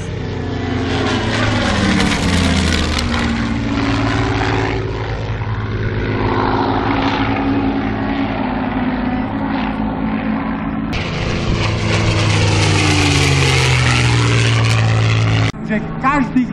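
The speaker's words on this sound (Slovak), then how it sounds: "Lietadlo Spitfire." A Supermarine Spitfire piston-engine fighter passes overhead at Slávnica airfield in 2012, its propeller engine roaring loud and close, pitch sweeping as it flies by, with a voice talking over it.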